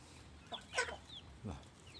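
A few short clucks from chickens, three soft bursts spaced across a couple of seconds over a quiet background.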